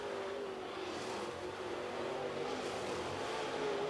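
A super late model race car comes off turn 4 at Cherokee Speedway, its engine a steady, sustained drone heard from a distance across the track.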